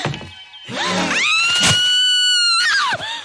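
A frightened mother screams in a long, high, sustained cry that holds steady for over a second before breaking off. A short thud and shorter vocal bursts surround it.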